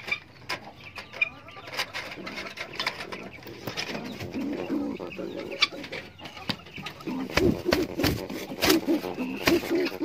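A male pigeon kept as a pet, aggressive toward its keeper while guarding a chicken egg placed beneath the pigeons, gives low repeated coos close by, rising in the second half over faint background noise.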